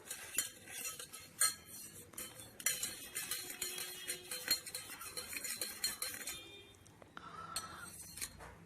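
A spoon stirs a mixture in water, clinking and scraping against a glass in quick, irregular strokes, close and fairly quiet.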